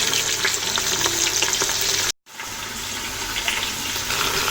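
Oxtail sautéing on the saute setting of an Instant Pot, a steady bright sizzle broken by a brief moment of silence before the frying hiss resumes, close and fairly loud.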